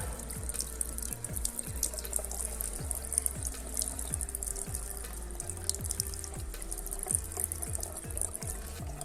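Water running steadily from a Hansgrohe Axor Starck V faucet, with a constant close rush and a few faint drips and clinks over it.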